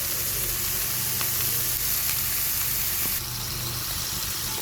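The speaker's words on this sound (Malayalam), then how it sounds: "ഇതൊരു പോർക്ക് സ്റ്റീക്കാണ് അപ്പം നമുക്ക് നെയ്യ് അതിൻ്റെ ഉള്ളിൽ നിന്ന് തന്നെ ഇറങ്ങിക്കോളുന്നുണ്ട്" A pork steak fries in its own rendered fat, a constant close crackling sizzle with a few sharper pops, easing slightly toward the end.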